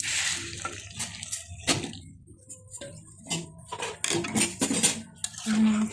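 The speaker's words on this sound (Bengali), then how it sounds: "পানি দিয়ে দেবো।" Water poured into a pan of pumpkin curry cooked with shrimp and spices, heard as close splashing and trickling mixed with clanks of metal utensils and cookware, in bursts with brief pauses.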